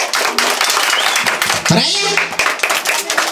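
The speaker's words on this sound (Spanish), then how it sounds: "Aplauso para ella." A crowd claps for a girl at a Children's Day gathering in canton La Carbonera. Brisk, steady applause runs throughout beneath an adult voice speaking loudly nearby.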